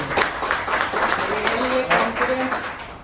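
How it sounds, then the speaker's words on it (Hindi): Audience clapping at a mobile repairing institute session, a dense patter of hand claps lasting a few seconds with speech-like tones rising through the middle, applause mixed with a voice. "उनके लिए तालियां बजा दीजिए आप।"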